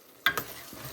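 Onion and green garlic being stirred in a hot pan, one brief scrape and clatter of a spoon over a faint sizzle, quiet and close.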